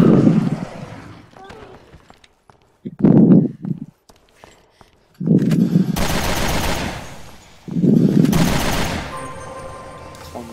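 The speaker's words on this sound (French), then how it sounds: "ça doit être la mitrailleuse" Machine gun fire in Resident Evil Revelations 2 on Xbox One, two loud sustained bursts of rapid shots, with someone talking between them and soft footsteps earlier.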